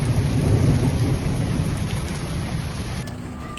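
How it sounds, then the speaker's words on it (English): Heavy thunderstorm rain pours steadily in a dense, loud hiss, with a deep rumble of thunder rolling underneath early on and slowly fading. "The first active thunderstorms erupted, causing local flooding and water accumulation."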